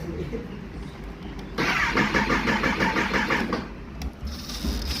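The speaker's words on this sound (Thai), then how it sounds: "สตาร์ทยังไม่ติดนะครับ เพราะว่า ยังไม่ได้ลงโปรแกรมอีโม" A Kawasaki ZX-10R motorcycle engine cranks without firing, a loud, rapid, even churning of the starter that runs for about two seconds and then stops, with quieter background noise before and after.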